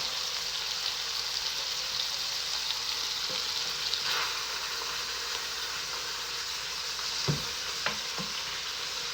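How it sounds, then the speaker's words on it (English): Ground meat for Bolognese sauce sizzles steadily in a hot pan while a utensil scrapes across the bottom a few times, with short louder scrapes near the end. "Again, scraping."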